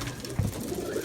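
Pigeons cooing in a loft during a morning feather-dropping moult, a short low throaty coo rising briefly near the middle, soft and close against a steady murmur of background noise.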